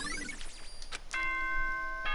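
A ding-dong chime from the video game Danganronpa: a brief high sweep, then a sustained bright multi-tone chime rings clearly and alone for about a second.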